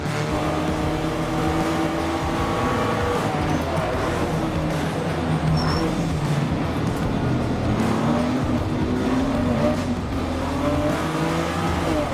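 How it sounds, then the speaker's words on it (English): Touring cars including a BMW race at Sonoma Raceway in TC America, their engines droning and rising and falling in pitch continuously, loud and close, with a commentator talking over the roar. "Catania's tucks in that BMW and claims the position back"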